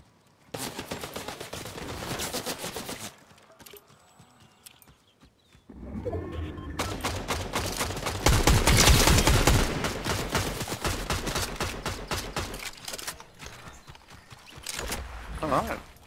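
Rapid video game gunfire in Fortnite rattles in dense bursts, with a short quieter gap before heavier sustained volleys; voices talk over the shooting.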